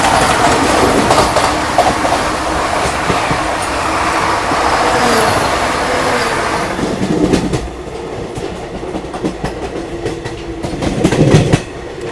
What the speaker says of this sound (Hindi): अभी देखो सामने से ये आ रही है अपनी निजामुद्दीन खजुराहो वंदे भारत एक्सप्रेस